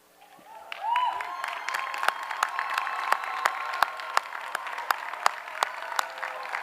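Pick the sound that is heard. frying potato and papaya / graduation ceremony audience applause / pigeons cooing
graduation ceremony audience applause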